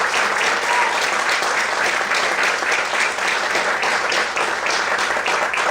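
A church congregation claps for the Lord during an evening service, a dense, steady roar of many hands applauding together, loud and sustained throughout with no break.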